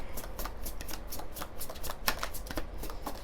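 A tarot deck is shuffled close by in a fast run of crisp riffling flutters that never lets up, with no talk.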